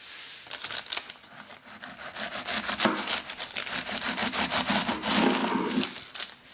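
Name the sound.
bread knife trimming the sides of puff pastry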